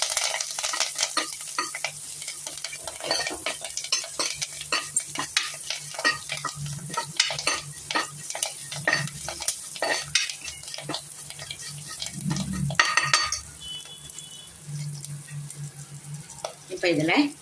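Cashews and other nuts roasting in a pan for rava pongal, with steady scraping and tapping of a stirring utensil over a soft, continuous sizzle throughout.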